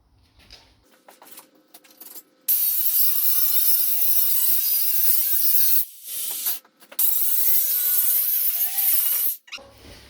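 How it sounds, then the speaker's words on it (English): A Kango hammer drill cuts through plaster and into a brick wall with a loud, sustained grinding whine. It breaks off briefly twice, after a quiet start with faint handling noises. "I'll put this slightly shallower, go through the plaster, and let the Kango go through the rock, the bricks"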